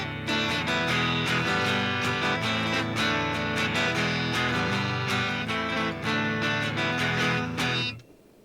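Clean electric guitar on the neck pickup through a Bassman-style 6L6 modeling amp, strummed chords ringing loud and steady for about eight seconds before cutting off, with no talking.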